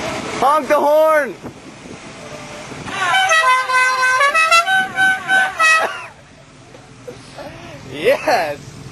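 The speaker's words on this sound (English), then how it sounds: "Honk the horn!" A vehicle horn honks in loud, near blasts, with voices shouting and talking between them amid wind noise.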